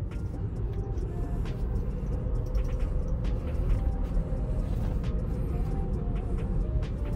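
Tesla on Full Self Driving with software 2024.14.6 and V12.3.6, heard from inside as a steady low road and tyre rumble with soft mechanical ticks while the car pulls up by itself.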